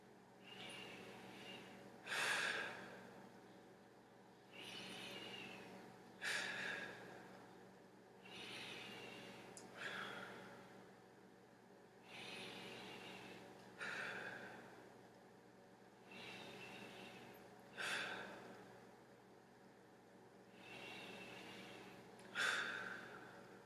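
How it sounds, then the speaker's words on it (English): A patient breathes deeply during a lung exam, about eight slow, even breath cycles, each a soft airy inhale and exhale, heard close and quiet with no talking. "So if you can take a deep breath for me."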